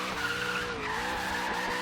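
A Crown Victoria engine in Forza Horizon 3 holds on the rev limiter in first gear during a drift, producing a sustained, strained high whine that stays at steady loudness for the whole short stretch.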